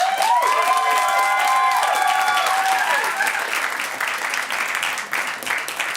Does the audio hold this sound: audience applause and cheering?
yes